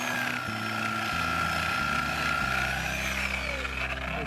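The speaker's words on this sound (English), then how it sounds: "So this is just a reciprocating saw." A cheap Harbor Freight reciprocating saw cuts through a thick tree root in a French drain trench, its motor droning steadily and loudly, shifting pitch in steps as the blade bites and the load changes.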